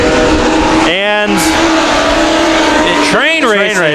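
Race cars roar past at Irwindale Speedway heading into turn one, loud engine drones with rising and falling pitch sweeps as cars pass close, under an announcer's commentary.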